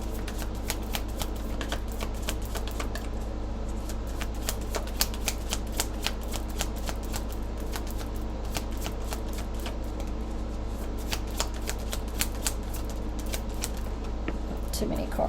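Tarot cards being shuffled by hand, a continuous quick riffling and flicking of cards at close range over a low background hum, with a voice speaking quietly at times.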